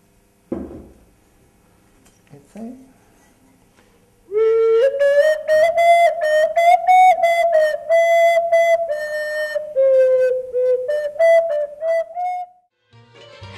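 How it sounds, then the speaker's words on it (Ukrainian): A few soft knocks, then a handmade ceramic clay whistle blown in one long, wavering tone for several seconds with breathy pulses before stopping. "Зробити отвори, щоб це можна було пограти, і, звичайно, сам свищик, який надає звук."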